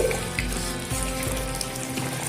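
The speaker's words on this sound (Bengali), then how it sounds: "ঘি দিয়ে একটু নাড়াচাড়া করে দিচ্ছি" New potatoes sizzle steadily in hot ghee in a pan while being stirred for an aloo dum curry, a dense, close, continuous frying hiss.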